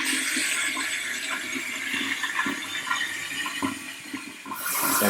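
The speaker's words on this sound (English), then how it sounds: "I turn on the shower. Hot and cold water." Shower in a house in Mykonos, Greece, run on both hot and cold water, hissing in a steady, close spray that rises louder near the end, with no voices.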